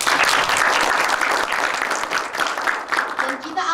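An audience at a student film screening breaks into sustained applause for a filmmaker, a dense, full wash of clapping that holds steady before tapering slightly toward the end.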